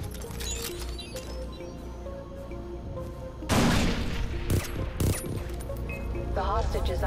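Gunfire in Far Cry 3 Blood Dragon, a series of loud broadband bursts in quick succession over a steady game soundscape, with someone talking over the action.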